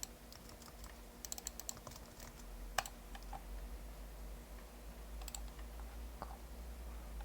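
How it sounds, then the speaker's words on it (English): Typing on a computer keyboard comes as soft, irregular key clicks, a few louder taps standing out, faint and close over a steady low hum. "So we're gonna type this one, type this one,"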